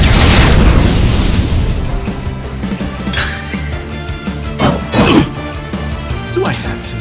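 A fire spell attack explodes in the Octopath Traveler video game, a loud roaring burst at the start that fades into a rumbling tail, followed by a few softer whooshing hits amid game music.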